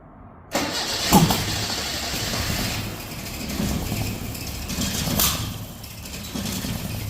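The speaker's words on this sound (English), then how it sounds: "I always get the intake backfire, no matter what" A Datsun engine fitted with a coil-on-plug ignition setup runs rough, with broadband popping bursts from intake backfire over a steady low engine rumble, close and fairly loud after a sudden start.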